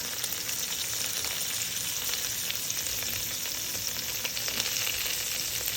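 Seasoning warms in a pan as the base for lobster bisque, a steady, even sizzle and crackle that stays close and unbroken, with no voices.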